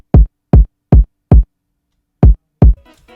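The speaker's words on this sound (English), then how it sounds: "Now for the rat kick I basically got like 3 different versions of it. This is gonna be for the hook." Punchy rat kick drum for a hip-hop type beat hook, six sharp, loud hits in an uneven pattern with a gap before the last two, heard alone.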